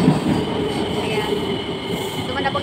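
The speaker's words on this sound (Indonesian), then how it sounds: "dito kami sa MRT at ayan na ng train na hinintay ko" MRT train pulling into Bukit Gombak station in Singapore, a steady loud rumble of wheels and motors with faint squeal and hiss, heard from the platform and close by, with a voice faintly under it.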